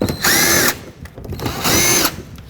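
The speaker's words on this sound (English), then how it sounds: "I'm going to start with these 7mm bolts that hold the bumper to the fender liner." A power drill spins out 7mm bolts holding the bumper to the fender liner on a 2007-2010 Chrysler Sebring during headlight replacement. Two loud, close whirring bursts of about half a second each are separated by a short pause.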